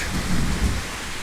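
Steady rain pours down outdoors during a thunderstorm on a farm where an Ursus C-360 tractor is parked, a dense continuous hiss with low rumbling underneath, loud and close with no voices.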